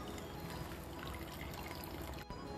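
Cold cornflour-and-water slurry poured into a pot of prawn noodle soup, giving a steady close liquid pour and trickle that runs almost the whole time with one brief break near the end.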